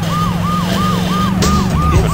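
Police car siren in the Saints Row 2 video game wails in a loud, rapid repeating rise-and-fall cycle, about six sweeps, over a low vehicle engine drone with a brief clatter partway through.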